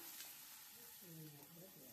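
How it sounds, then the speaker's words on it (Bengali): Chopped onions fry in mustard oil in a pan with a steady, close sizzle and occasional stirring, while a faint voice murmurs briefly toward the end. "পেঁয়াজগুলা হালকা ভাজা ভাজা হবে"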